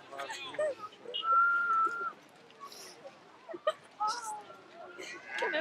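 A person whistles at pigeons on a street in Paris: short, thin whistled tones come in bursts over faint background chatter, with soft bird sounds mixed in.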